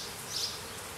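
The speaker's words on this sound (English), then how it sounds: "You hear them buzzing a bit because the bees are stuck together." Honey bees buzzing inside a beehive being inspected, a steady close hum with a brief swell in the middle, moderately loud and with no talk.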